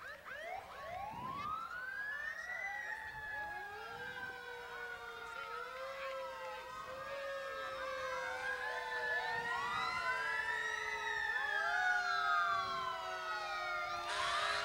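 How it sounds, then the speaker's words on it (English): Ashland Fire Department fire engines parade by with sirens wailing continuously, several overlapping rising and falling tones that grow gradually louder as the trucks approach, with no talk over them. "And the fire engines from the Ashland Fire Department."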